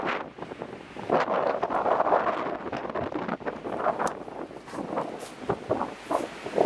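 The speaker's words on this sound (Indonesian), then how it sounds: "Kuat angin guys." Strong wind gusts buffet the microphone outdoors, roaring and rumbling unevenly as the bursts swell and ease.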